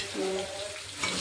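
Hot oil sizzling after mustard seeds, cumin and asafoetida are added for a tempering in a home kitchen, a brief, close, steady crackle.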